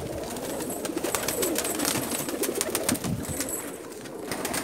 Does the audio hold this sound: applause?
no